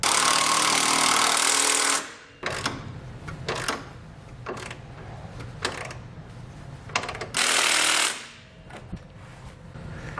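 Power tool running a 9/16 socket on the strap side bolts of a Blue Ox base plate fitted to a 2017 Honda Civic: loud bursts of buzzing rattle at the start and again near the end, with clicks and clanks in between.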